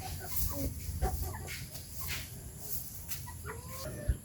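Chickens cluck in a yard, with several birds calling close by over steady outdoor background noise throughout.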